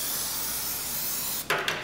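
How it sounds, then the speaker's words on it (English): A spray can of lube hisses onto a bike-style drive chain during maintenance of a Tow and Collect Mini 700/1220, a steady close spray ending with a couple of short sharper bursts. "spray a liberal coating on the portion of chain you can see"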